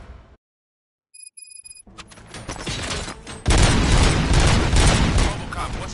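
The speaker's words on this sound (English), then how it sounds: "Gunshots? What's going on?" Gunfire erupts in the RoboCop: Rogue City video game, with a sudden dense, loud burst of rapid shots and booms after a brief lull and a few electronic tones, continuing as a sustained barrage.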